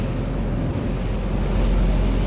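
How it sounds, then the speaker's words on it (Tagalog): A boat ride on the open sea between Sharp Island and Sai Kung Pier, Hong Kong: a continuous roar of waves and wind buffeting the microphone, with a low engine rumble underneath and no talking. "nandito kami sa gitna ng dagat"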